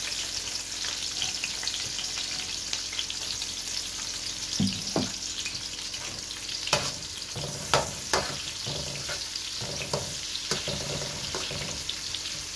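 Chopped onion hits hot oil with whole spices for khichuri, sizzling loudly and continuously, with a few sharp clinks and scrapes of stirring scattered through.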